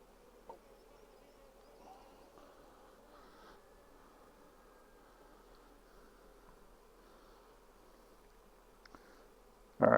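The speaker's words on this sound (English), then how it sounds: "Looks like the bottom has a lot of bees in it." Honey bees in the bottom box of a hive hum in a steady, soft drone throughout, with a brief louder rustle at the very end.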